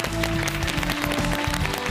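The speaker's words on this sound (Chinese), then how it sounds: "掌声欢迎" A studio audience on a CCTV health programme claps to welcome a guest doctor, a continuous burst of applause lasting about two seconds with a faint tonal music bed underneath.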